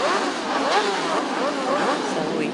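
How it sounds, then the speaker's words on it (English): Racing motorcycle engines at an All Japan Road Race Championship event, Yamahas among them, rev for a warm-up lap, a dense continuous roar with rising and falling pitches, loud and steady throughout, with a voice speaking over it. "Engine starts."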